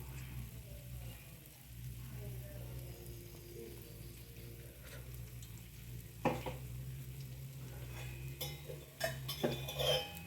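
Egg dosa frying in oil on a pan, with black pepper sprinkled over the beaten egg: a steady low sizzle runs throughout, broken near the end by a few sharp clinks and scrapes of a utensil against the pan.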